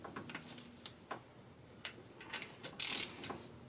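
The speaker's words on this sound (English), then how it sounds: "we're just gonna double check it using this ratchet" Ratchet wrench clicking while tightening exhaust manifold bolts on a 1996 Honda Civic, a few short close ratcheting ticks and clacks spread across the moment, followed by a brief louder metallic rasp near the end.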